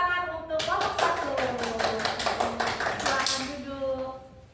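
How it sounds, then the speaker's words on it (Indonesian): A classroom of students claps for a group, a few seconds of lively mixed hand clapping from many people that builds quickly and tapers off, with a tonal voice or sung note running beneath it. "mari kita beri applause atau kita beri tepuk tangan untuk kelompok 1"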